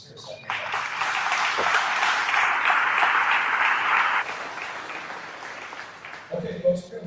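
An audience at a North Texas commercial realtors' event applauds the venue host, a dense burst of clapping lasting several seconds before it thins out and a voice starts speaking.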